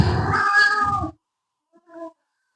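A house cat in a home shared by four or five cats gives one loud, drawn-out meow up close, followed after a short pause by a brief, fainter second mew.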